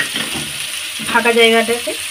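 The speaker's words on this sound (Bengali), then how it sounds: "মশলাগুলো আমি এতে কষিয়ে নেব" Spices fry in oil in a pan beside vegetables, giving a steady sizzle while a voice speaks briefly over it.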